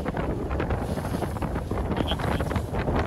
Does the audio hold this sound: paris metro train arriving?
no